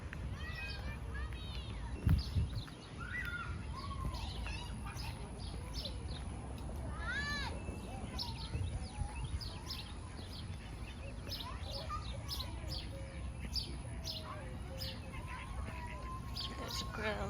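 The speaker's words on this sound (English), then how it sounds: "Nothing better than kids playing, sound of kids playing and the birds chirping." Birds chirp and tweet repeatedly in an outdoor park setting, bright calls scattered over a steady wash of background noise, with faint kids' voices at play and a brief thump early on.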